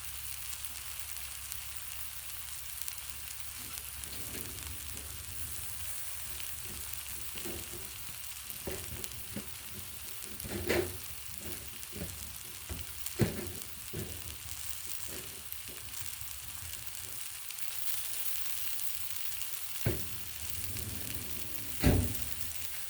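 Chicken strips fry on a Blackstone griddle with a soft, steady sizzle, broken by occasional louder crackles and spatters near the end, and no voices.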